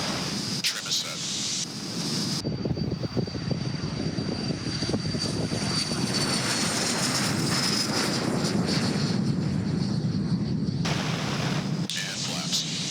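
Small propeller airplane engine at full power during a takeoff roll, a steady loud drone with broadband roar that fills the whole stretch, with brief cockpit voices near the start and end.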